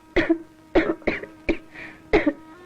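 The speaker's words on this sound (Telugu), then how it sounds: "అమ్మాయి దగ్గుతున్నట్టుంది." A young woman coughs five times in quick, evenly spaced bursts, close and fairly loud, each cough sharp and throaty, with no talking.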